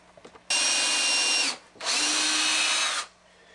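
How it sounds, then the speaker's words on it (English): A drill fitted with a 3/32 inch bit bores down through a 2x4 into plywood, heard as two loud, steady whining runs of about a second each, separated by a short pause. "This is what we're going to be using to drill down through the 2x4 into the plywood."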